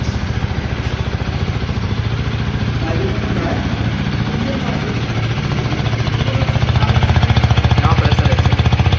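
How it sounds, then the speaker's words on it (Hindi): Husqvarna Vitpilen 250 and KTM Duke 200 single-cylinder bikes run close by, a steady rapid engine throb with mechanical clatter that swells slightly louder near the end; no talking. "अब चलते हैं एक बार इन दोनों बाइक्स की आवाज़ सुनाता हूँ आपको।"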